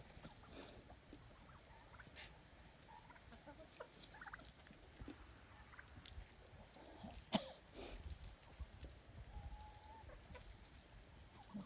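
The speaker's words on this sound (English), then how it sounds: "Don't know why the turkeys are in the pen." Turkeys in a muddy free-range pen make soft, distant gobbles and clucks over a quiet outdoor background, with an occasional sharper call rising briefly.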